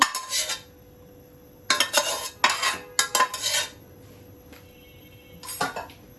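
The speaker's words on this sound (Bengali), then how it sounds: "আমি এখন নাড়াচাড়া করি" Rice pudding (payesh) of rice and milk being stirred in a pot, heard as a few bursts of metal spoon scraping and clinking against the pot, separated by quiet pauses.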